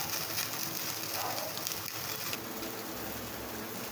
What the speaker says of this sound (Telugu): ఇలా మనం చికెన్ అంతా ఇలా పెట్టుకోవాలి. గ్యాస్ హై ఫ్లేమ్లో పెట్టుకున్నాను.